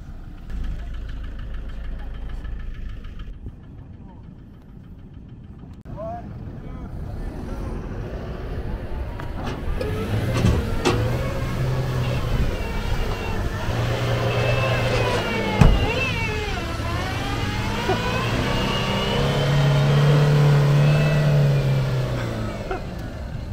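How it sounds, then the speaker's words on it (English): A vehicle stuck in sand or mud at a Namibian coastal dune area revs its engine in reverse, the motor rising and straining through several surges while people talk nearby. "They just like throttled it backwards and it pulled itself out of that hole."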